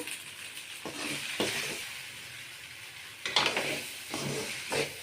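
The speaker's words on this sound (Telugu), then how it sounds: "ఇదంతా అయితే కర్రీ బాగా కలుపుకుందాము" A curry mixed with coriander powder and other spices in a hot pan, giving a soft ongoing sizzle and several separate scraping stirs of a spoon, close and quiet, with no voices.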